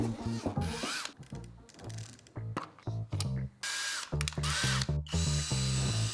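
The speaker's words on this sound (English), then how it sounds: "Drilling at a precise angle isn't easy, especially when you're trying to eyeball it and hold the drill steady at the same time." A power drill drills a hole at an angle, motor whirring in loud stop-start bursts with pauses between, close and prominent.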